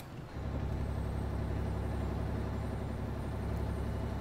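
A 315 hp Mack truck engine in American Truck Simulator drones steadily and loudly at a constant rumble while driving, starting in with a rise after a brief quieter moment, with no talk over it.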